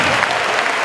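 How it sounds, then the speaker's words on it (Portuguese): Brief, loud burst of steady applause from a church conference audience, dense clapping throughout. "Pode aplaudir, pode aplaudir."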